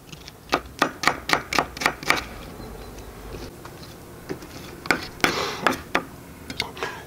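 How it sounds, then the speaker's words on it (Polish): A knife chopping onion on a board for a duck stew cooked in a kettle over a campfire; about ten quick, crisp, evenly spaced knocks, a pause, then a second looser run of cuts, close and alone. "Cebuli nie musimy kroić bardzo cienko."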